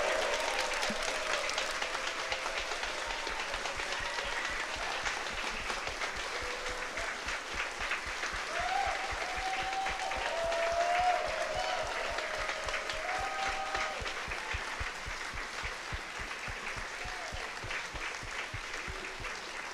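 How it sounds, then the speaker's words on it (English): Sustained audience applause fills the hall for the 2025 Netrunner World Champion at the card game's world finals, steady dense clapping with faint crowd murmur underneath, no voice over it. "one more round of applause, please"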